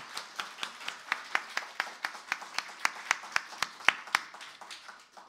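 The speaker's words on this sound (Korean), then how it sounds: "두 분에게 다시 한번 우리 감사의 박수를 드리도록 하겠습니다" A small seminar audience of parents claps in thanks for two speakers, producing fairly faint, evenly spaced claps that blend into a light patter.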